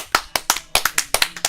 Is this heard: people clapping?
yes